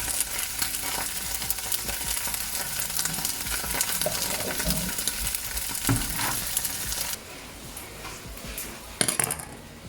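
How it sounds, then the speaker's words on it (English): Onion dropped into minced meat seasoned with thyme and salt, frying in a pan: a loud, steady sizzle with scraping stir sounds and clinks, then a quieter sizzle after a drop in level near the end. "Add my onion."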